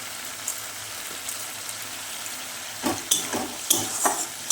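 Spices frying in a pan hiss with a steady close sizzle, and a spoon stirring them adds several scraping, clattering strokes toward the end.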